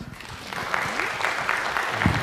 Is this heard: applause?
yes